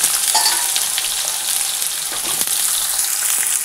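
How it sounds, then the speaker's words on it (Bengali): Potatoes sizzling and spitting in oil tempered with bay leaf and whole cumin, water from the potatoes bubbling up. The frying is loud and steady, with occasional light stirring clicks. "ফোড়নি দিয়েছি তেজপাতা আর গোটা জিরে। এই যে দেখলে ভুলে গেছি হলুদ দিতে, তেলের মধ্যে ফুটছে, আলুর মধ্যে জল আছে।"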